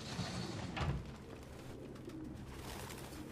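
Pigeons cooing in an old barn in Detroit: Become Human, soft low repeated coos close by with a faint flutter, quiet and unhurried against a muted room ambience.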